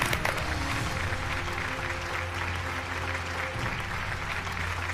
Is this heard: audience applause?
yes